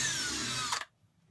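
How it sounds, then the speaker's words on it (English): A power drill bores a hole through a wooden bed-lift brace in an RV, a close, loud whirring spin that cuts off abruptly, leaving quiet afterward. "I'm going to get my hole drilled, and then I can run the machine screw through and tighten it down"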